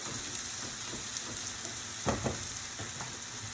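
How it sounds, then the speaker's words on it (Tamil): Onions lightly sautéing in a pan give a soft, even sizzle with a couple of brief stirring scrapes, close by and fairly quiet. "வெங்காயம் ரொம்ப பொன்னிறமாலாம் வதக்க மாட்டேன் நான். ஜஸ்ட் லேசாக வதக்கிட்டு"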